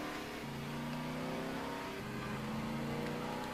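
A Tofaş car's engine revving in the GTA video game, a steady mid-pitched drone with a couple of rising tones as it accelerates, fairly quiet and continuous with no talking.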